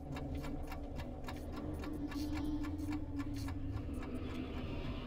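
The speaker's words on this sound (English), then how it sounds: "I hear the clock." A clock ticks steadily in the video game Alan Wake's DLC The Signal, its regular ticks sitting over a low, droning rumble of ambience with no talk.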